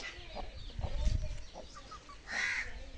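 A black hen clucks close by in short irregular bursts, with other fowl calls in the background.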